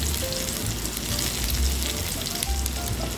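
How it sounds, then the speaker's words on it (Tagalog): Garlic sautés in a hot pan, a steady, close sizzle of frying with faint crackles and occasional soft stirring scrapes, and no voices. "Tapos itong bawang. Yan, gigisa lang natin hanggang sa maging mabango."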